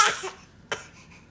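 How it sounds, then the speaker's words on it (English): A short, small pretend cough, followed moments later by a second brief, quieter cough-like burst. "Is that a pretend cough?"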